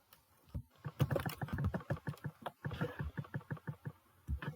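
Keys on a computer keyboard clatter in quick, close, uneven bursts of soft clicks as an HTML H1 heading tag is typed, pausing briefly between runs in an otherwise quiet room.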